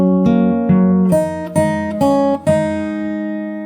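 A fingerstyle acoustic guitar plays a phrase of a song, five or six clear plucked notes and chords ringing out one after another at a steady pace, close and bright with no talking.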